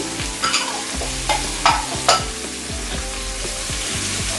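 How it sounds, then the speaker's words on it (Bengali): Mixed vegetables (carrot, kakrol, long beans, potol and ash gourd) stir-fry in a hot pan with a loud continuous sizzle, while a spatula scrapes and clacks against the metal in repeated strokes, up close and with no talking. "সব সবজিগুলোকে আমি একটু ফ্রাই করে নিচ্ছি।"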